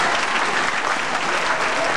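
Steady applause from an audience at a children's classics recitation exhibition, a dense continuous clapping that stays even and fairly loud throughout.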